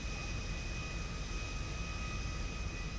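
A video-game aircraft departing the runway at LSIA makes a steady, even roar of engine noise with a faint tonal whine, continuous and unbroken.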